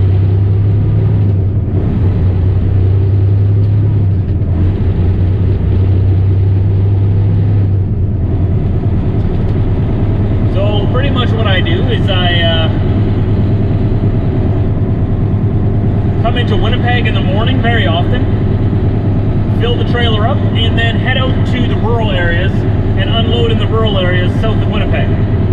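Stick-shift truck driving, a steady low engine drone and road rumble inside the cab running throughout, with someone talking intermittently over it in the second half.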